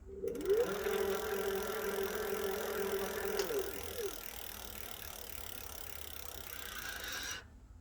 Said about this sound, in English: now we're in economy mode. So have a listen to the motor